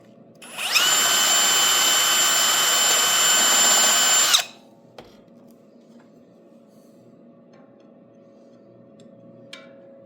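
A power drill bores into a 60-year-old boiler in one loud, steady whining burst of about four seconds, then stops, leaving a faint hum and a few small clicks.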